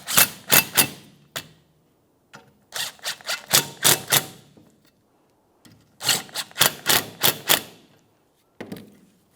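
A Toyota Corolla's steering knuckle mounting bolts being snugged up, rapid bursts of sharp ratcheting clicks in three close clusters with short pauses between them.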